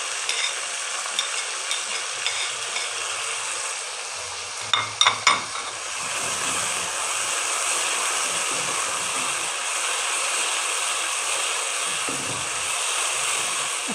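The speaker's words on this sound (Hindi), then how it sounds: "अच्छा सा भून लें।" Tomatoes and chilies frying in a pan for fry daal mash, a steady broadband sizzle running throughout with brief clattering stir knocks around the middle, fairly close.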